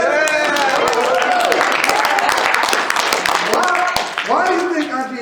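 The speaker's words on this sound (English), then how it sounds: "Y'all not gonna clap for me on that?" Clapping from an audience at a business partner event, a dense patter of hands heard under loud cheering and voices, dipping briefly near the end before more whoops.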